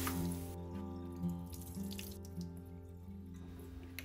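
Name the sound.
washing garden vegetables in water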